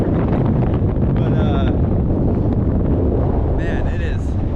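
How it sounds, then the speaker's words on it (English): Strong wind buffets a GoPro Hero 11 microphone on an outdoor running trail, a loud, steady rumbling roar throughout, with faint tonal sounds briefly rising above it. "It's a bit windy. Not too sure if you can hear me"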